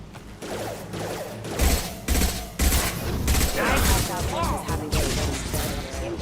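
Commander Shepard's favorite gun fires in Mass Effect 2 Legendary Edition, several heavy, punchy shots and bursts in quick succession over a backdrop of combat noise.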